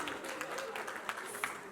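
Steady applause from a crowd at a surprise birthday party, a dense wash of clapping at moderate level for a short stretch with no talking.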